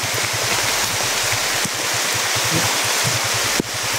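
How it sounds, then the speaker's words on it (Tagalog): Heavy rain pours down in a steady, dense hiss, with a faint rhythmic low thumping running beneath it throughout. "kumalakas po ng ulan mga ito"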